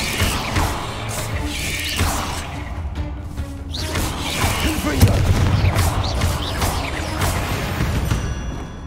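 Bombarda spell explosions from Hogwarts Legacy, several heavy booming blasts and crashes over a dense rumbling game soundscape, with spoken voices mixed in.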